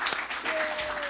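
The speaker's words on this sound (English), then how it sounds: "You can clap." Audience applause at a human rights event, a steady dense wash of clapping filling the short moment, with a faint tonal whine running through it.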